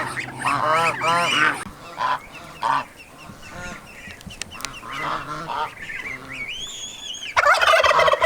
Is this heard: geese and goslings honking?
yes